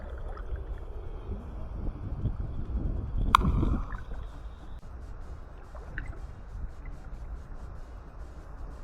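Someone wades through waist-deep water on the way to a rocky island, legs pushing through with steady swishing and sloshing, a sharper splash midway, wind rumbling over the microphone.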